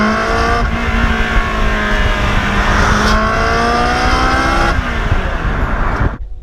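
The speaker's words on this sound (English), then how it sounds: "It features a complex 5-valve four-cylinder V8, which produces 400 horsepower and 275 pound-feet of torque." A Ferrari 360 Spider with a 400-horsepower V8 and a 6-speed manual gearbox drives hard, its engine note climbing steadily through a gear change before cutting off abruptly, loud and close.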